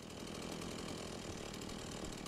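A video-game chainsaw runs with a steady, rough buzzing drone throughout the Beyond Hanwell survival horror game, faint and continuous with no pauses.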